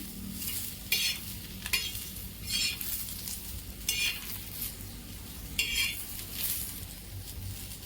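Seven or eight cashews are fried in a pan for restaurant-style butter chicken, with a spoon stirring and scraping in repeated strokes over a soft, steady sizzle, close but quiet.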